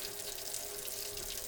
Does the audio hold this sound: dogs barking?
no